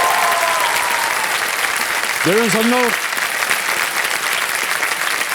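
Studio audience on the KBC quiz show applauds in a loud, continuous wash of clapping, while a voice briefly speaks over it midway.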